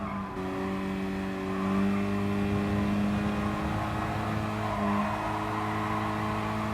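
A race car corners hard in Gran Turismo Sport, its engine holding a steady, loud droning whine with tire squeal layered on top, continuous and close throughout, no voices.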